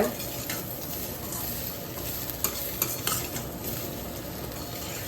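Baby potatoes and curry leaves sizzle as they fry in a pan, with a steady hiss and a few scraping stirs and light metal clinks from a utensil, close and fairly quiet.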